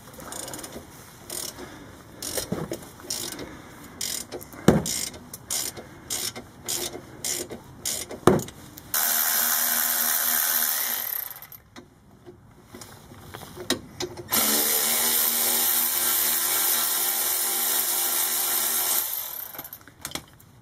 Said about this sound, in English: put my 14mm on my top caliper slide pin. I'm just going to loosen it up.